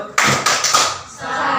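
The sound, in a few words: class applauding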